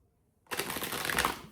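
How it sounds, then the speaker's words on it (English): A deck of tarot cards being shuffled: after a brief quiet moment, a close, continuous papery riffle of flicking cards lasting about a second, heard alone. "We're going to shuffle and pull one card."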